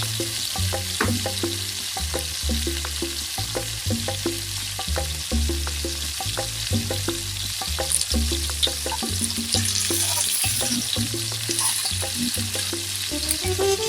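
Food fries over a low flame, giving a steady close sizzle. Rhythmic knocking and scraping from turning or stirring runs through it, with no voices.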